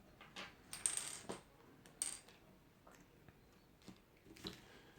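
A Cat8 network connector set down on a work surface, giving a few light, faint metallic clicks and taps scattered among quiet handling noises.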